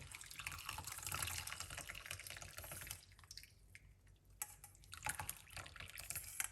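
Freshly brewed mint tea pours and splashes steadily, briefly easing off midway before resuming, a close, bright trickling with no voices.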